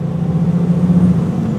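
An IVECO Stralis 460 truck's diesel engine labouring up a hill in sixth gear, a deep, steady drone with a strained low hum that holds constant throughout.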